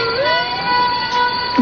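An ambulance siren wails steadily nearby, its pitch sliding up and holding, loud and continuous with no talking.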